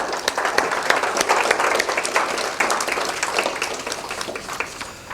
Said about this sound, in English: I think we can give HOOP a little round of applause.